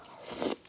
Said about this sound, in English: Let's try the katsu before it gets too soggy.